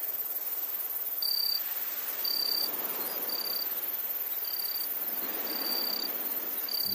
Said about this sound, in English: Here we've got some cricket chirps